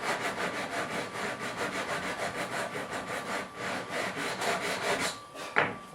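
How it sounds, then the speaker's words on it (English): Rhythmic back-and-forth rasping of a sanding block on a wooden guitar top brace, dozens of quick even strokes, close up, stopping briefly near the end. "So now I can take my sanding block"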